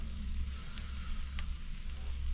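Cured-meat claypot rice sizzles steadily in its pot inside a small camper van on a freezing day, a close, continuous crackling fry with a couple of brief sharper pops, no talking.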